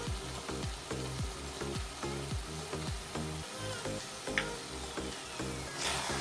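Taro greens are stirred in a hot pan with chili powder and a little tomato puree, giving a loud, steady frying hiss broken by a regular rhythm of spatula strokes, about two per second, with no voices.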